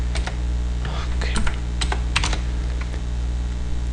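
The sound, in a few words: typing on a computer keyboard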